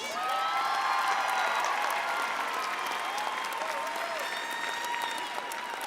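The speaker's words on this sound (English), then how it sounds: "Give your family members, parents, and friends a round of applause, please." A large commencement audience applauds steadily for the graduates' families and friends, the dense clapping loud and sustained from start to finish with a faint cheer or two mixed in.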